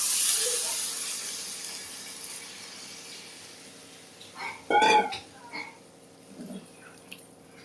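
Water poured into a hot pan of curry made with banana, potato and split-pea fritters hisses with steam, a bright loud burst fading over a few seconds, followed by brief bubbling and a voice speaking nearby.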